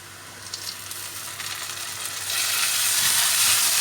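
Tomatoes go into a pan of light-brown fried onions, a steady loud sizzle that swells to a harsher, brighter hiss halfway through as the wet tomatoes hit the hot oil.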